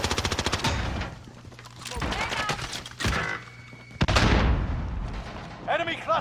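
Heavy gunfire in Call of Duty Warzone on Rebirth Island, with a rapid automatic burst opening, then scattered loud shots and booming impacts mixed with voices talking over the action.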